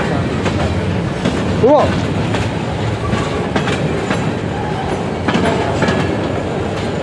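A westbound train roars past at speed near Emmett, Michigan, a loud continuous rumble and rattle of wheels and cars close by, with a brief squeal and a short exclamation from a bystander.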